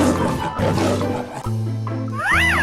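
A lion roars in a 3D animal slide video game, a sustained growl layered over bright electronic game music and sound effects, with no talking.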